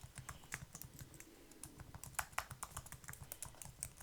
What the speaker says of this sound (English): I'm just going to type it in anyway.